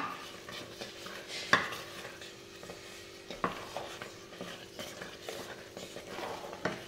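Jaggery is tipped into a pot of traditional khapli wheat kheer, bringing close clinks and scrapes of a utensil against the pot along with soft stirring sounds, several sharper knocks standing out amid the steady rustle, with no talking.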